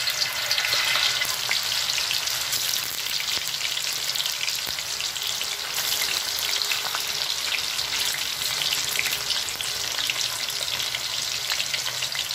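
Tofu fries in oil in a pan for a soy-sauce pork and vegetable dish, a continuous bright sizzle with crackling pops and occasional stirring scrapes, steady and close.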